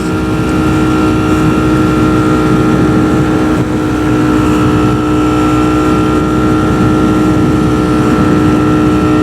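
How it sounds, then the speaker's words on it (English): A Ducati motorcycle at speed cruising around Houston, with a loud, steady engine drone and rushing wind running unbroken throughout, no pauses or gear changes standing out. "it doesn't make any sense for this bike to be this fast"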